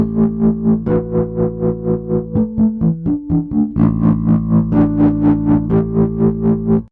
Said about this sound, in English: So you can hear that that's only affecting the distorted sound. The tremolo is on that